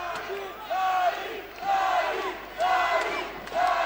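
Fight crowd at a UKFC mixed martial arts main event roaring and shouting in repeated swelling waves, loud and close, with rising yells cutting through the arena din.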